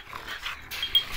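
A large, giant-sized female dog is close by, making faint, brief panting and snuffling sounds with no voices over them.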